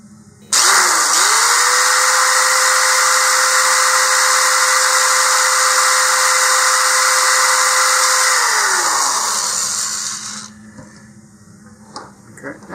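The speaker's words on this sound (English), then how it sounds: "I'm going to hold this so that I make sure my finger is not behind it there" A power drill bores a hole in a model rocket tube, whining steadily for about eight seconds, its pitch rising at the start and dropping as it winds down, loud and close.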